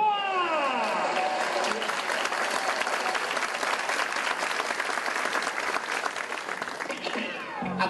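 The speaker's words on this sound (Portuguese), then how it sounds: "E uma salva de palmas para a LB Boa!" Sustained applause at a quality circles convention in honor of the LB Boa team, many hands clapping steadily for several seconds, with a voice speaking over the start.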